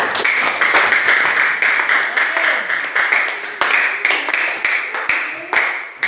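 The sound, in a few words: group clapping hands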